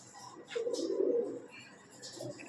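A pigeon coos softly in a low, throaty murmur, one drawn-out call with fainter chirps and outdoor background around it.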